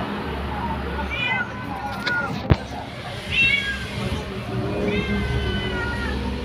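A cat eats bitter gourd leaves and gives several short meows, close by, over steady background noise with a sharp knock partway through.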